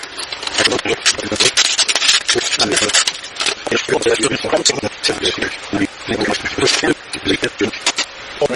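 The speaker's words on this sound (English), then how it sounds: "So I'm going to use a bit of sandpaper, and I'm just going to do the obvious. Run the sandpaper down and clean out in there." Sandpaper rubbing inside the broken neck of a Westfield Les Paul electric guitar, a dense rapid series of close, gritty back-and-forth scrapes.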